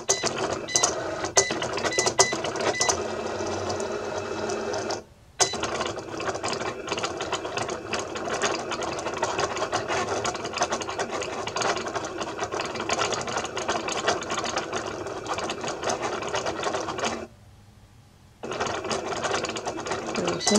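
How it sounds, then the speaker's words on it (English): A Cricut cutting machine cutting faux leather, a continuous loud mechanical whirring and buzzing with rapid clicking that stops briefly twice before resuming. "I'm sure you guys don't want to watch all this cutting"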